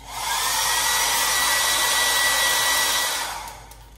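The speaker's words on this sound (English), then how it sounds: "I'm gonna dry this a little bit with my hair dryer." A hair dryer blows steadily at close range, drying watercolor paint on paper, a loud continuous whoosh that runs for several seconds before switching off and fading.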